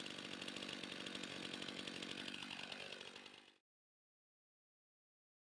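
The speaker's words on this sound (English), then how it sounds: "take the time to warm up the product to ensure that you will get the most of your STIHL chainsaw" A STIHL chainsaw idles during warm-up with a loud, steady, buzzing engine drone that runs unbroken for a few seconds and then cuts off abruptly into silence.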